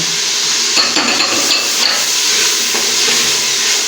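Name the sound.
stirring green chilies into frying masala for keema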